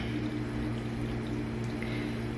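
Makeup brush cleanser is poured out in a soft, continuous liquid stream, faint and steady for a couple of seconds under a low background hum.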